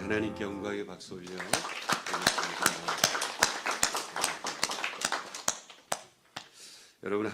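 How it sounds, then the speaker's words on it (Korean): A church congregation applauds during a Sunday service with a burst of sharp, close claps, forming a lively stream that thins out toward the end, while a voice speaks briefly at the start and again at the close. "우리 하나님께 영광의 박수 올려"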